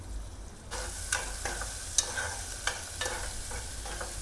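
Onions, green chillies and asafoetida fry in hot oil with a steady, close sizzle, broken by regular scrapes of a spoon as the pan is stirred. No one speaks.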